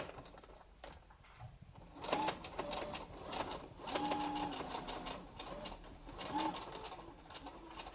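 A sewing machine stitches three doubled layers of cloth face-mask fabric in slow, uneven runs, its mechanical whir close but fairly quiet, with pigeons cooing faintly in the background.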